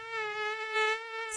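Mosquitoes buzz close by with a thin, steady, high-pitched whine that swells slightly and fades, alone without any talking.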